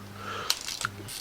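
A Minox 35ML compact camera's electronically fired shutter going off once: a faint, quick double click, close up and quiet, with a soft low hum before and after.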